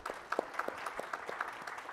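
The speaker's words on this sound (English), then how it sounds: "I think that deserves a round of applause" Applause from the audience at a conference conversation event, a moderate burst of individual claps that sound slightly distant in a hall.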